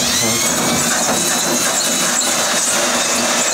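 A power drill cutting fiberglass for a tiny house shower whines loudly and continuously at close range, its grinding buzz steady with no pauses.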